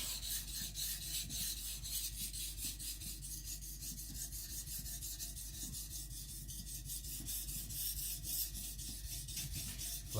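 A kiridashi knife blade is stroked against a sharpening surface with light force, giving a steady, rhythmic rasping of close, evenly spaced strokes that repeat continuously throughout with no voices.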